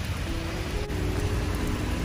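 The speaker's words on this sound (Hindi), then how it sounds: "बारिश का लेवल देखिए, दिख रहा है ये दीवार में पानी बहता हुआ" Heavy rain pours steadily in Dubai, a dense, even hiss of water falling and running down a wall near a balcony, continuous and fairly loud with no voices.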